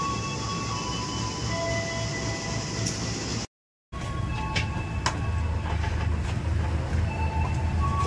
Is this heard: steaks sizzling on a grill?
no